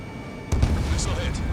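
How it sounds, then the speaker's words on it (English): A missile striking an aircraft in Ace Combat 7: Skies Unknown, a single sudden booming hit after a quiet moment, followed by rumbling debris and noise, loud and close, with voices talking over it. "Missile hit."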